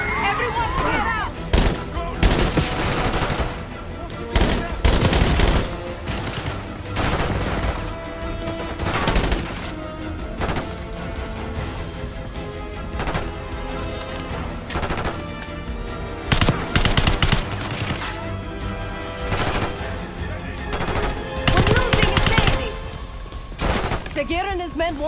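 Gunfire in a Black Ops 6 campaign cutscene, loud and close: repeated bursts of automatic fire and single shots spread across the scene, with shouting voices mixed in.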